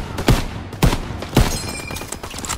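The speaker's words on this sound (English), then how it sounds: "MG in the hayloft! Take cover! Hit the MG!" Call of Duty WWII battle audio carries three heavy, evenly spaced shots from a machine gun firing out of a farmhouse hayloft, close and loud. A busy backdrop of distant combat noise continues after the shots.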